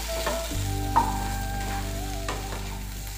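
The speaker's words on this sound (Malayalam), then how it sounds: "നല്ലപോലെ ഒന്ന് വഴറ്റി" Tomato and potato sautéing in a pan for a koottu curry, a steady close sizzle with occasional stirring scrapes and a couple of sharper utensil knocks, no voices.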